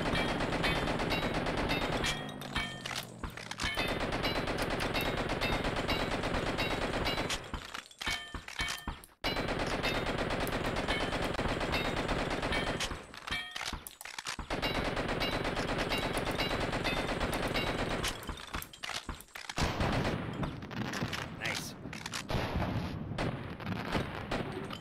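An oversized gun in the video game Blood and Bacon fires in long, loud, rapid bursts, with a few short pauses between sustained volleys.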